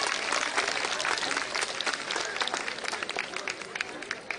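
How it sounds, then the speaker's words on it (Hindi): A crowd at a political rally during a slum-dwellers' outreach march claps loudly in a dense, continuous wash of applause, with faint murmuring voices mixed beneath the clapping. "इसलिए एक बार पुनः आप यशस्वी प्रदेश अध्यक्ष जी के लिए जोरदार ताली बजा करके अभिनंदन कीजिए।"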